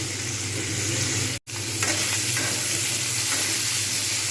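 Potatoes frying in a pan give a dense, loud, continuous sizzle, broken by a brief moment of silence near the start, with faint stirring scrapes and no voices.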